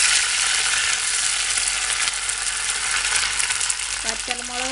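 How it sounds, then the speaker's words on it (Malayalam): Curry leaves hitting hot coconut oil already crackling with mustard and fenugreek seeds give a loud, steady sizzle that hisses on without a break, with a brief utensil ring near the end. "ഇനി കറിവേപ്പില ഇട്ട് കൊടുത്തു"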